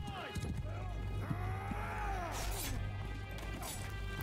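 Horse hooves clip-clopping during a battle in Mount & Blade II Bannerlord, a steady patter of hoofbeats under dense game noise, clashes and whinnying, with a voice talking over it.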